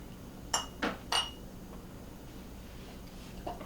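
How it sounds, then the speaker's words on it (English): Glass canning jars clink a few times as they are filled with apple butter, three sharp taps close together near the start and a fainter one later, over a quiet room. "And you just fill up all your jars one at a time."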